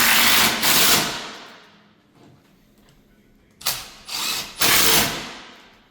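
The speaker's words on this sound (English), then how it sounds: "Now he's going to put the screws for his motor." A power driver sets screws into a hotel door's electronic lock motor, two short whirring runs near the start, a quiet gap, then three more bursts, close and loud with no talk.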